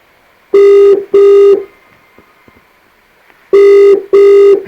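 A telephone rings loudly in two pairs of bright electronic trills, each pair of short bursts separated by a few seconds of near silence, with no voices.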